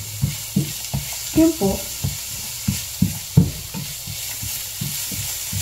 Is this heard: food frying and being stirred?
yes